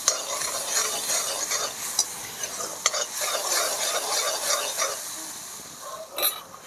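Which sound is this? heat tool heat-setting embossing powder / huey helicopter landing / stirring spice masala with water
stirring spice masala with water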